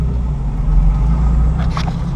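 A Nissan 350Z cruising, a steady deep low engine and road rumble heard from inside the car, with a faint brief higher sound near the end.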